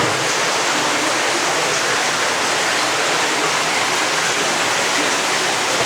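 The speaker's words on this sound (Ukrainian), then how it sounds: "Тут вода тече річка така невеличка." Continuous rushing water, loud and steady throughout, a broad hissing flow of a small river inside a mountain cave in Norway, close by.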